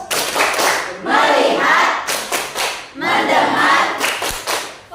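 Students in a classroom perform a rhythmic focus clap: sharp bursts of clapped beats alternate with short stretches of voices chanting together, repeating in a patterned cycle.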